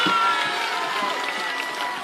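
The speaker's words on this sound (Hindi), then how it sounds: "अब जिसको जिसको ताली बजाना है बजा लो।" Crowd clapping at a political rally speech in Bihar, a steady wash of many hands from a large gathering, moderately loud and continuous throughout.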